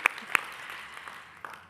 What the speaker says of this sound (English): Definitely worth applauding.